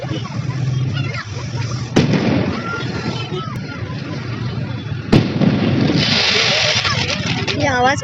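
Firecrackers and fireworks go off on an otherwise quiet street, with two sharp bangs some seconds apart over a crackling background and whistling rockets near the end, while people talk throughout.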